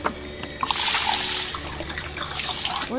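Water runs from a pipe in the video game House of 1000 Doors, a bright splashing gush that swells, eases and returns, with faint background tones underneath.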